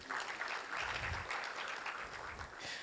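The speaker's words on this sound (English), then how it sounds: "Let us give her a round of applause" Audience applause at a supply chain professionalization event, a steady, fairly faint wash of many hands clapping that lasts throughout without a break.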